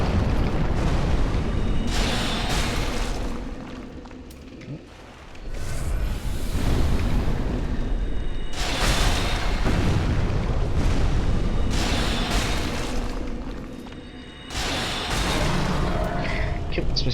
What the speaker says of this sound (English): Wake him up a bit, and then we can fire crystal soul spear at him.